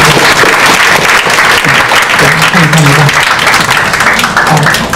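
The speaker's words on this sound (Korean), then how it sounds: "우리 좀 박수로 환영해 드립니다." Church congregation applauding at a pastor's installation service, a loud, dense wash of clapping that holds steady for the full stretch, with faint voices underneath.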